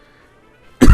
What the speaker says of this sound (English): Not blessed be my cough